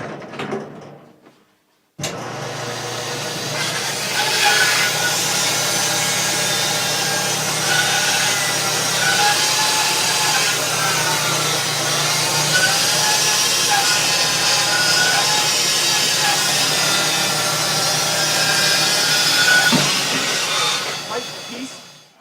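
A saw milling a log into a 6-inch piece in a woodshop, starting abruptly and running loud and steady with a droning whine that shifts slightly in pitch as the cut proceeds, then stopping near the end.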